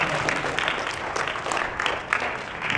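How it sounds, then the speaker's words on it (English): Audience applause at a voice acting workshop at Ichibancon 5, steady clapping from a crowd filling the whole short stretch at moderate loudness, with no voice standing out above it. "Give Shani a round of applause."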